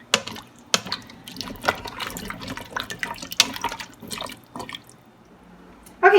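Vegetable broth stew being stirred in an Instant Pot: wet sloshing and liquid splashes come in irregular bursts, close and fairly quiet, with a louder slosh at the end.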